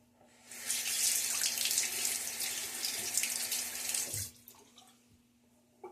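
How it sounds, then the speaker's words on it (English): A tap runs in a steady rushing stream for several seconds during a wet shave, then shuts off abruptly, followed by a few small drips and quiet handling sounds. "Splash of water again"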